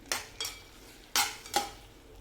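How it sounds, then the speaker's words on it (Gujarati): A spoon stirs flat bean (valor) curry, with a pinch of soda added, in a pressure cooker. Four short scraping, clinking strokes come at uneven intervals, close and fairly quiet, with no talking. "હવે હલાવી નાખશું"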